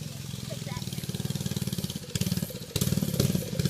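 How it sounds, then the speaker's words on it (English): Small dirt bike engine running with a thin, mini-bike-like putter, a fast steady pulse close by that grows rougher and louder toward the end. "The look of a dirt bike and the sound of a mini bike."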